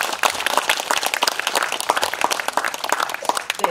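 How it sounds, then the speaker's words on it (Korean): Dense, steady applause from an outdoor crowd follows a traditional Korean singer's performance at a cultural arts festival at the Donggureung royal tombs, rapid claps filling the whole stretch. "다시 한번 큰 박수 부탁드립니다"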